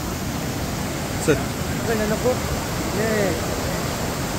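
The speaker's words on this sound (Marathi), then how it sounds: "आम्ही शेवटी धबधब्याला आलोच. वज्राचा धबधबा." The Vajra waterfall roars as a constant broadband rush, while voices call out briefly over the falling water.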